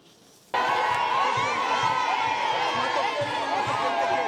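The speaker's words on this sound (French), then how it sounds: "a eu droit à un bain de foule impressionnant de la part de la population" A large crowd in Kasumbalesa bursts into loud cheering and shouting as the provincial governor arrives. The roar starts suddenly and holds steady, dense and close, with scattered whoops.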